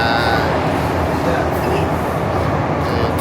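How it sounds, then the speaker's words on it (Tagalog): A Disney resort train on the Hong Kong Disneyland line rumbles steadily at close range, a dense, loud rolling roar of carriages in motion with a faint squeal at moments. "Tren."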